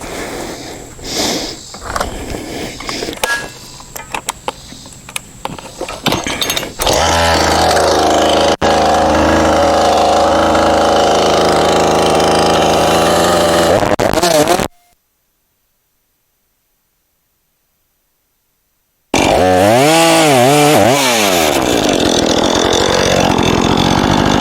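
Chainsaw revs and cuts into a standing dead ash stump, loud and close, running roughly then settling into a sustained full-throttle whine, cutting out into silence before restarting and bogging down through the wood.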